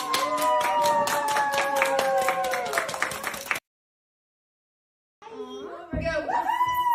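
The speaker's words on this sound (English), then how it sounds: "a big round of applause!" Round of applause at a school board meeting, a burst of crowd clapping with voices mixed in, then a brief silence before more clapping and chatter resume.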